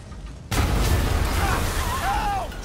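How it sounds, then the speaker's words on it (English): A sudden heavy boom erupts from quiet, then rolls on as a dense, sustained rumble, with faint whistling tones rising near the end: a bomb explosion in the video game Marvel's Spider-Man. "I guess bombs are part of Willie's getaway plan."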